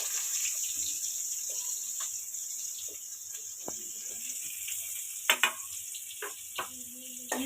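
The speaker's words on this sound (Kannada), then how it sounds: "ಈರುಳ್ಳಿ ಹಾಕೊಳ್ತಾ ಇದ್ದೀನಿ" Onions fry in hot oil in a pan, a soft continuous sizzle with occasional clicks and knocks of a ladle, close and quiet.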